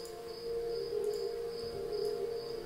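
Crickets chirping as an ambient effect placed in a game map editor, a steady tonal insect trill holding throughout at moderate level with faint repeating pulses above it, alone without talk.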